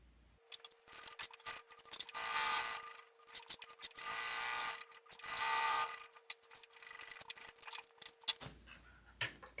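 A sewing machine stitches around the body of a tote bag in bursts of whirring motor and needle clatter, with short pauses and a steady hum behind it, close by and fairly quiet.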